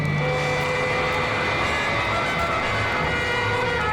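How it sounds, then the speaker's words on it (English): Sound effect of a solar-powered robot plane climbing toward the stratosphere on a Wonder Woman record, a loud sustained engine drone with steady tonal hum and no pauses. "As the magnificent solar-powered vehicle begins a dizzying climb into the stratosphere"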